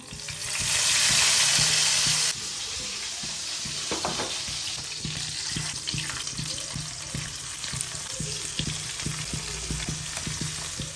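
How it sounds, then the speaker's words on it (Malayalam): Sardines marinated with turmeric, chili powder, ginger garlic paste and salt fry in hot oil, giving a continuous, close crackling sizzle that is loudest in a hissing burst at the start, then settles into steady bubbling. "ഞാൻ ഇതിൽ മഞ്ഞപ്പൊടിയും മുളക് പൊടിയും ജിഞ്ചർ ഗാർലിക് പേസ്റ്റും ഉപ്പൊക്കെ ഇട്ട് നല്ലോണം ഒന്ന് മിക്സ് ചെയ്ത് ഇനി വറക്കാൻ പോവാണ്"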